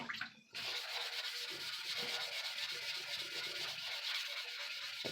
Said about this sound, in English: You use wet dry sandpaper